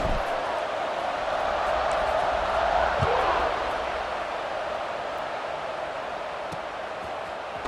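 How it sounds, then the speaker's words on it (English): Crowd at a football game in a video game keeps up a steady, loud murmuring buzz after a score, a continuous roar without distinct cheers. "this crowd is buzzing after that last score"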